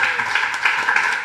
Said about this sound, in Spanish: un aplauso, apóstol.